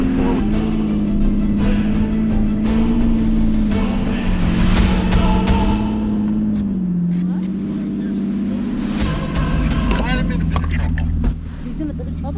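Off-road Jeeps on lockers and big tires strain up a steep mountain trail, engines droning and revving loudly in a wavering growl, with people talking over the noise.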